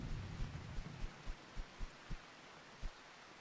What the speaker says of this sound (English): just gonna continue to fight this fire until the rain puts it all completely out